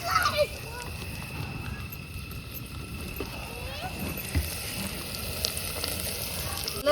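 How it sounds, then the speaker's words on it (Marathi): Garlic frying in oil for dal: a steady sizzle and crackle hiss throughout at close range, with occasional clinks and stirring sounds, while voices talk faintly in the background. "लसूण घ्यायचा तळून, मस्त होतं वरण."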